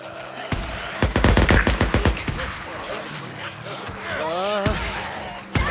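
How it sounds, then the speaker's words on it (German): Rapid bursts of gunfire in the video game Days Gone on PS5, a dense volley of shots followed by scattered single blasts, with people talking over it. "Ich höre Schüsse."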